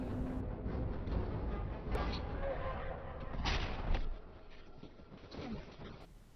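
Artillery fire from a battle scene in the 2000 film The Patriot, heavy booms rumbling under a dense, continuous wash of battlefield noise and music, with voices mixed in.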